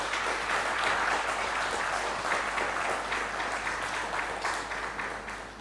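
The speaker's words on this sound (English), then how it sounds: "Let's have a long round of applause for the top 16." Long, sustained round of applause from an audience for the top 16 finalists at a spelling bee winners' announcement, dense steady clapping that fades slightly toward the end, with no talk.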